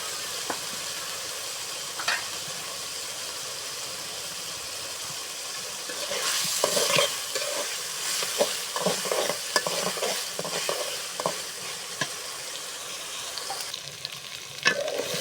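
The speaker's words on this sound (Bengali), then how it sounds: "মাংস ভাজা হয়ে গেছে" Meat frying in a pan with chopped ginger and garlic, a steady close sizzle under repeated stirring scrapes that grow busier midway, with no talk.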